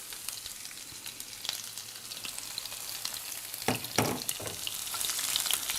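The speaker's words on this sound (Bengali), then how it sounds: "পেঁয়াজ কুচি ও রসুন কুচিটাকে একদম ব্রাউন করে ভেজে নিতে হবে" Medium-size chopped onion and garlic fry in hot oil with a steady close sizzle that swells slightly, broken by a few clanks of stirring.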